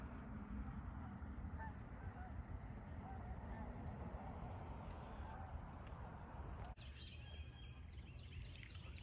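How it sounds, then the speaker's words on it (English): Geese honk intermittently in the distance across a large lake at Santee State Park, South Carolina, over steady outdoor background noise, with a sharp shift in ambience near the end. "Lots of geese out."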